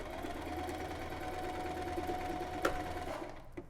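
A sewing machine stitches a fabric drawstring bag with a steady, close whirring hum that stops near the end and is followed by a couple of faint clicks.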